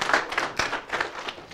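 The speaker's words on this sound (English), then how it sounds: "Please join me in welcoming Frank with a round of applause" Scattered clapping from a small audience at a student journalism talk greets the guest speaker, with a handful of distinct, uneven hand claps close by over about a second and a half.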